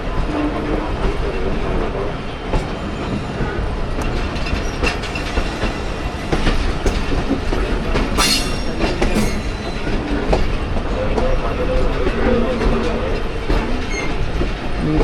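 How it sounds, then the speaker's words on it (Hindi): The Rehman Baba Express passenger train runs on rails near Wazirabad in Pakistan, a dense continuous rumble with rattling wheel clatter and occasional metallic squeals, loud and close throughout. "वज़ीराबाद अप्रोच बना रही है ट्रेन हमारी"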